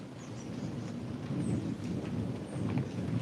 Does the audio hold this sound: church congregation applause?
no